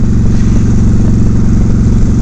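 A cruiser motorcycle with an engine over 800cc runs in a loud, steady, close rumble at an even pace, with no speech over it.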